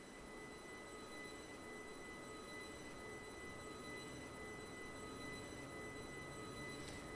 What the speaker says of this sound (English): there's our train going past